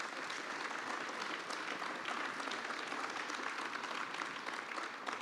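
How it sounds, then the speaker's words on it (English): A hall crowd at an election count gives the count and security staff a round of applause, a steady wash of many hands clapping that stays even and somewhat distant. "I wonder if we could give them a round of applause"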